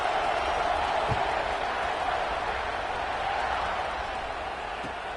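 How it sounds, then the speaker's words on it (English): College football video game stadium crowd keeps up a steady, broad murmur and hum after a score, droning evenly throughout with faint hints of applause in the mix. "this crowd is buzzing after that last score"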